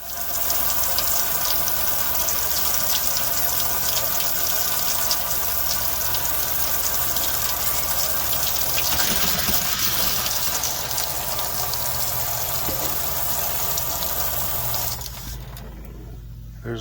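Water rushes steadily through a camper's plumbing and faucet for a long stretch, a continuous loud gushing hiss that eases slightly near the end.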